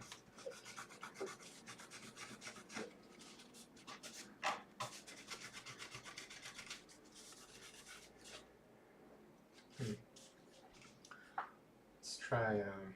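Stubborn, dried-out thermal compound is scraped and rubbed off a DOS card for a Mac, a steady close rasping that runs in uneven bursts with a few sharper scrapes and pauses near the end.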